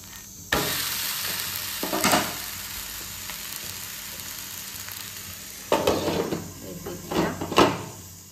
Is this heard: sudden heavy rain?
no